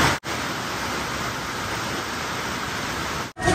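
Heavy monsoon rain pours down as a dense, unbroken roar of broadband noise, loud and close, with no voices over it.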